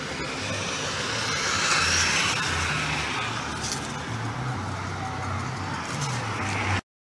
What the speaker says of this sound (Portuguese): O povo passa com os carros com sons ligados, aí estrova minha gravação.